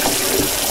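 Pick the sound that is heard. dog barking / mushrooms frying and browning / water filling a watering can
water filling a watering can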